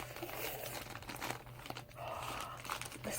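A plastic AliExpress mailer package being opened, with faint, close crinkling and crumpling of the plastic in irregular bursts, soft and quiet throughout.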